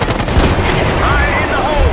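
Rapid automatic gunfire crackles in a Call of Duty Black Ops 6 campaign firefight, loud close bursts of rattling shots layered with distant fire and whizzing sounds, continuous throughout.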